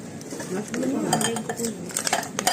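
Ice cubes clinking and rattling as they are dropped into a glass in a home kitchen, a run of bright, close knocks over the clatter of dishes, with people talking throughout.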